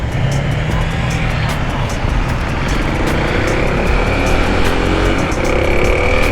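A Kawasaki KLX 300SM motorcycle being ridden, its engine droning loud and close with steady wind rush throughout, the note rising gently as it pulls along.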